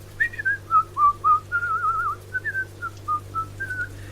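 A person whistles a wandering, bright tune in short phrases and held notes, close and clear over a low steady hum.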